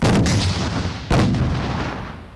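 Two heavy blasts of RPG-7 grenade launcher fire at a Ukrainian military training range, the second about a second after the first, each followed by a long rumbling echo that slowly fades.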